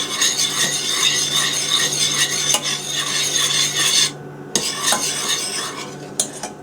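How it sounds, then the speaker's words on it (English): A whisk rattles briskly against a metal pan while beating meringue, a continuous scratchy clatter of wire on metal with a few brief pauses and clinks. "keep whisking it"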